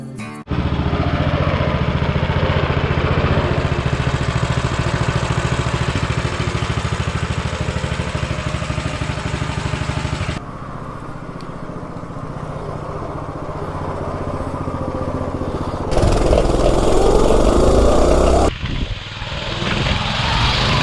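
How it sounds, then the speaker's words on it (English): Minibike with a stock 196 engine, Tillotson carb and airbox, governor removed, running on 87 octane; a loud, steady engine drone carries through the run, dropping back then surging up again near the end. "I'm going to test this bike out with a draggy performance meter on 87 octane with the Tillotson carb and the Tillotson airbox and the governor removed"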